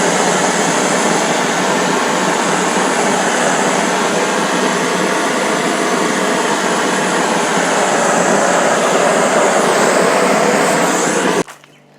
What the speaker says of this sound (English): I want to take the torch and get the edges and maybe around the bottom a little bit